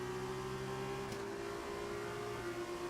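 An F2 race car in the F1 2019 video game, on the Bahrain circuit, gets on the power down a straight, its engine a steady sustained tone heard close and alone throughout.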